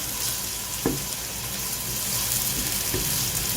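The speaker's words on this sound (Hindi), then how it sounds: "यहाँ पे हमारे प्याज जो है कलेजी के लिए ब्राउन हो रहे हैं" Chopped onions frying in hot oil for tawa kaleji, a loud, even sizzle throughout with a few faint knocks.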